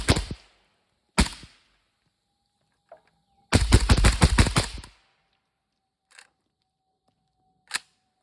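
Suppressed gunshots from a 10-inch SBR mini jack firing 55-grain TUA 9R rounds: a sharp crack, a second, a rapid burst of several shots, then scattered lighter clinks and taps, each loud and alone with no talk.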